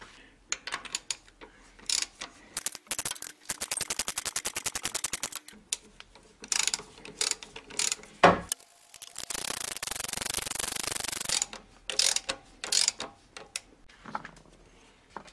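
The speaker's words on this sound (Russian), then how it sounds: "Сейчас трещотку поставлю." Ratchet wrench clicking in rapid bursts while loosening fasteners during camshaft sensor removal on a Honda engine, with pauses between runs of close, crisp ticks.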